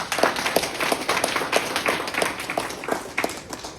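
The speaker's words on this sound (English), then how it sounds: "let's give her a big applause" A small gathering claps for by-election candidate Doly Begum, individual hand claps distinct and uneven, fairly close, without much crowd noise.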